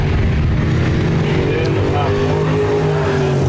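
IMCA RaceSaver sprint cars racing at Park Jefferson Speedway, a steady loud engine roar throughout with shifting pitch as cars pass, under an announcer's voice.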